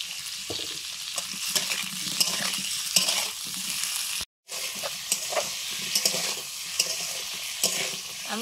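Potatoes sizzle loudly in hot oil while a utensil scrapes and stirs at intervals, with a brief silent gap partway through.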